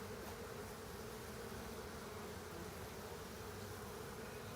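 Honeybees buzz steadily at an opened hive during an inspection, a dense, continuous drone from many bees, faint and even with no voices.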